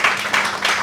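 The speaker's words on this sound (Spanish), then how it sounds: "un aplauso grande para la agrupación y para Marité" A theatre group and poet Marité receive applause from an audience at a poetry gathering: dense, steady clapping with swells of intensity, carrying on through the whole short moment without a break.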